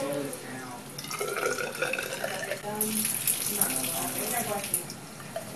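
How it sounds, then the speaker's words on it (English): Tap water runs steadily from a faucet into a graduated cylinder in a lab setting, a continuous close splashing flow with a brighter rush partway through and a voice faintly underneath. "Be sure to turn the water on before placing graduated cylinder under it."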